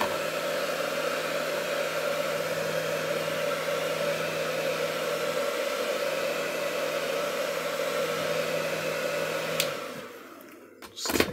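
A heat gun or hair dryer blows steadily as it warms the side of an iPhone for battery removal, a constant airy whir with a low hum that cuts off near the end, followed by a brief clatter.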